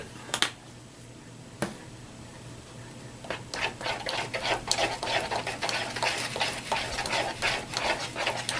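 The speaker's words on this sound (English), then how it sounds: "Give it a little stir." Spoon scraping and clinking as honey bacon barbecue seasoning is stirred into an MRE meal, a few sharp taps early then a busy stretch of close, fast stirring and scraping.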